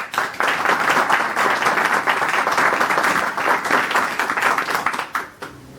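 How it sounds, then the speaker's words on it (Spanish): Audience at a book presentation applauding, steady dense clapping from many hands, sustained for several seconds before tapering off at the end. "Un gran aplauso para él."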